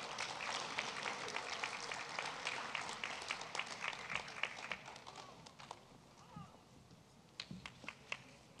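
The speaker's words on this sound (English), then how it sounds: "Round of applause for Rosemead High School's ELAC." Audience applause at a school district event: a crowd claps steadily for several seconds, then the clapping thins out and fades into scattered claps and room noise.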